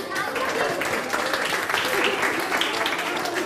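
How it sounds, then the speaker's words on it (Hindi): A studio audience on a Sindhi television game show applauds loudly, a dense and continuous wash of clapping with excited voices mixed in throughout. "ओके जोरदार तालियां हो जाए इनके लिए।"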